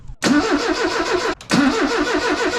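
A 1979 MGB engine cranks without catching, in two loud, close bursts of rapid rhythmic starter churning separated by a brief pause, with no speech.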